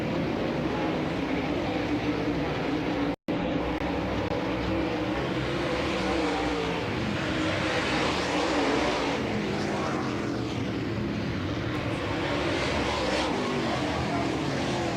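Dirt late model race cars roar around the Wayne County Speedway track during a hot lap session, a steady distant engine drone with a rising and falling pass, heard under a commentator's voice.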